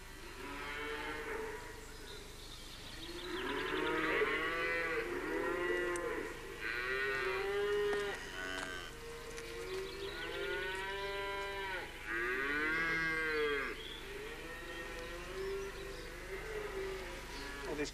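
Cows mooing, one of them sick with bronchitis, long drawn-out lows repeating every few seconds, fairly close and loud against a steady low hum, with no voices.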